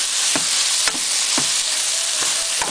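Beef and sweet red bell pepper sizzle loudly and steadily in a hot pan, with a few sharp utensil clicks from stirring scattered through the close, continuous frying hiss.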